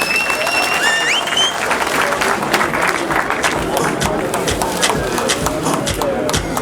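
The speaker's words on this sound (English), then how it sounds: "Ladies and gentlemen, a round of applause." An audience at a bank schools deposit promotion award ceremony applauds steadily for several seconds in a dense clatter of claps, with faint background voices and a few brief high tones mixed in.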